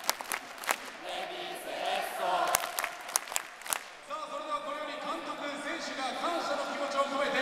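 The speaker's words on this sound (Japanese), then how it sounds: "拍手、声援、応援で迎えて" A stadium crowd applauds and cheers for the coach and players after a Cerezo Osaka vs Kawasaki football match, steady massed clapping with sharp claps standing out early and a sustained roar of voices swelling later.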